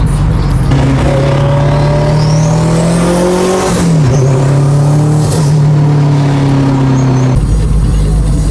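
A right-hand-drive Honda NSX fitted with a turbocharged K24 engine rolls through traffic, a loud steady engine drone from inside the car rising and falling in pitch with gear changes, and a brief whine overhead.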